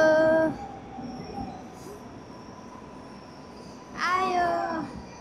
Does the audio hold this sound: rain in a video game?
no